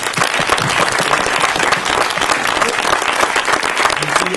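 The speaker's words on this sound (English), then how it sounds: "Please give him a round of applause for this." An audience applauding at a film screening Q&A: loud, dense clapping from a roomful of people, continuous and even for several seconds.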